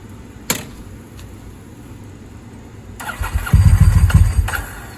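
A Ducati 748 motorcycle engine catches after a sharp starting burst, then settles into a loud, uneven rumble with throttle blips close by.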